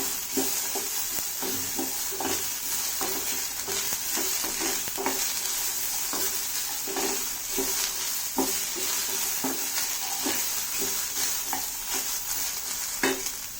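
Chopped snake gourd stir-fried in a tempering of Byadgi chilli paste and curry leaves, giving a loud, steady sizzle with frequent rhythmic scrapes and taps of a spoon against the pan.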